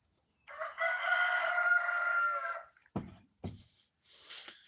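Roosters crow in a long loud call at close range, followed by two sharp knocks and a fainter second crow near the end.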